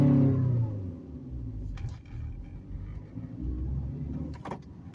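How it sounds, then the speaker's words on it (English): A manual stick-shift car pulls away from a stop in second gear, its engine giving a low, labouring rumble that rises and swells while the car strains to move, with small clicks and knocks over the drone. "I'm going to take off from 2nd just to show you why I don't do it"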